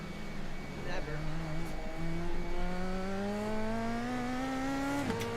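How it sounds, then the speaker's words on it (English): Indy Pro 2000 open-wheel race car in a racing sim at Summit Point, its engine note climbing steadily through the gears with a brief shift dip, loud and continuous while people talk over it. "Ooh, I like the car sound."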